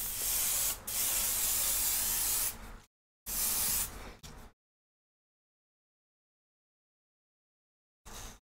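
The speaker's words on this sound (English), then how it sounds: "This is the Kenra Platinum heat block spray" Kenra Platinum heat block hairspray hisses onto hair in two close, strong bursts lasting a few seconds and one second. After a silent pause comes a final short puff.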